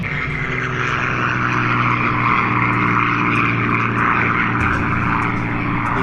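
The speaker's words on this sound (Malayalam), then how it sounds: "ഈ കേൾക്കുന്നുണ്ട് വിമാനം" A propeller airplane drones loudly overhead near the Mellieha air raid shelter, a steady, continuous engine roar with a low rumble that holds throughout.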